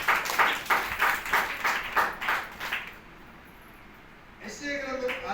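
A church congregation claps together in a steady, rhythmic beat to glorify God for about three seconds, then falls quiet before a voice begins speaking.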